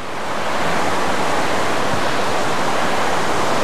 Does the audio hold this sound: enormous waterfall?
yes